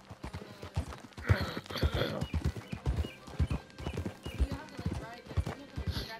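Horse hooves clip-clop steadily in Red Dead Redemption 2 during a legendary bear hunt, a rhythmic trotting beat close by, with occasional whinnies and voices talking over it.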